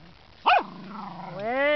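A corgi gives one sharp, close bark, then follows it with a rising, whiny yelp that trails off into a longer excited vocalization.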